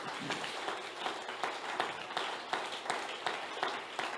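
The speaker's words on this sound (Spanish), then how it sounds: "Fuerte ese aplauso al Señor." Church congregation applause during a sermon, soft, steady clapping from many hands with a rhythmic pulse, heard faint and somewhat distant.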